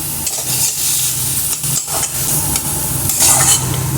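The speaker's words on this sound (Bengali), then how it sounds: "চিমনিটা চলছে তাই একটু আওয়াজ হচ্ছে" Kitchen chimney exhaust hood running loudly and steadily while banana stem is stir-fried with turmeric, its constant whooshing drone mixed with sizzling and spatula stirring, with no voices.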